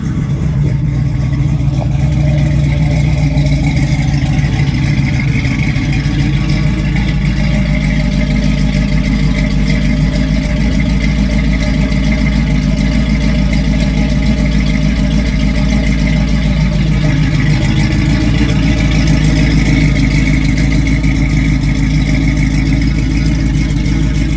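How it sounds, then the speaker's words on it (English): Close and steady, a 1967 Chevrolet Camaro idles through its dual exhaust, a deep, even burble that lasts throughout, with only slight swells in revs and no voices. "Great dual exhaust sound"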